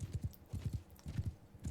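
Horse hooves in the medieval combat game Bannerlord clip-clop in quick, close pairs of dull thuds, forming a steady galloping rhythm, with no speech.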